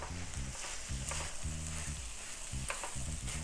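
Seafood fried rice with king crab, lobster and shrimp sizzles and crackles steadily in a pan. It is close and continuous, with scraping stirring strokes and a low hum running underneath.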